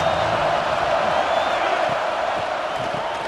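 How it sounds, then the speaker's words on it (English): A stadium crowd roars in EA Sports College Football 26 during a third-down play in the red zone, a dense continuous cheer with scattered whoops, loud and sustained throughout. "this crowd is at fever pitch"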